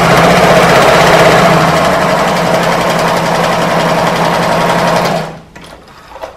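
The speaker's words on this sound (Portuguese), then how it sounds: "eu coloquei aqui no 5 e começo a costura." A home sewing machine set to its longest stitch runs a gathering seam, a loud, steady, rapid mechanical whir that holds for about five seconds and then stops, followed by faint clicks.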